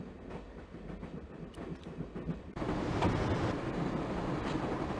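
Train running in the Broken Sword game, a steady rumbling clatter of carriages that grows louder and fuller midway, continuous and close with no talk over it.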